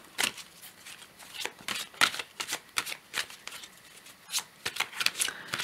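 Tarot cards being shuffled by hand, a close series of crisp riffling and slapping bursts in an irregular rhythm, with no talking.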